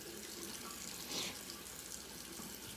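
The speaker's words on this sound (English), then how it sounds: "but first I like to wet my face." A bathroom tap runs steadily into a sink for wetting the face, a continuous hiss of flowing water with a brief louder splash partway through.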